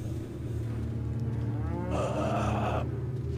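Cows moo in Resident Evil 4, with one long, close, drawn-out moo rising over steady in-game ambient hum and droning background tones.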